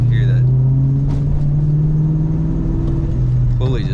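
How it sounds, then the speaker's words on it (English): A car engine running with a worn pulley, a steady droning hum with a faint whine through it, heard from inside or near the vehicle while a voice talks briefly at the start and end. "Pulley just sounds like it's getting worse and worse"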